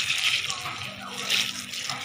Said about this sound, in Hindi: और अब हम इसमें डालेंगे गरम पानी।